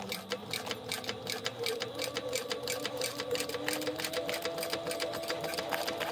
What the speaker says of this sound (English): I'm going to do my 1/4 inch seam allowance, back stitching at the beginning and the end.